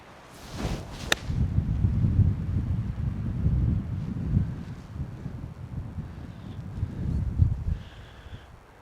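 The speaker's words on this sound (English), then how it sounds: "Thought the wind was going to do a lot more than it did because it was gusting quite a lot" Gusting wind on a golf course rumbling low and steady across an outdoor microphone, swelling and easing over several seconds with a sharp snap early on.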